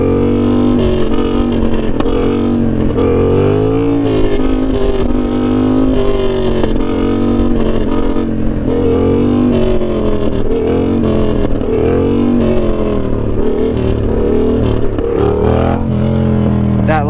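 A motorcycle engine drones steadily, its pitch swelling and dropping repeatedly under engine braking, with constant loud wind noise throughout.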